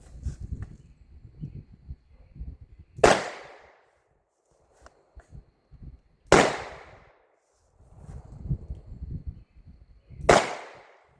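Three loud, sharp shotgun blasts fired during right- and left-hand shooting practice at a barricade, spaced about three seconds apart, each a sudden close crack with a short decay, with quieter shuffling and handling noise between shots.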